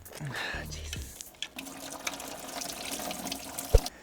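Coolant pours out of an Alfa Romeo MiTo QV water pump into a container beneath the engine bay, a steady liquid splashing and trickling stream with a few knocks, close by with a voice briefly heard.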